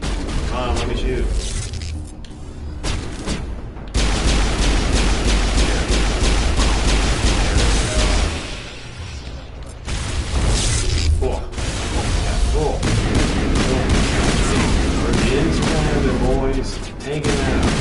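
Bursts of gunfire and heavy impacts from the video game Mass Effect, loud and sustained with brief lulls, mixed with game effects and a player's voice.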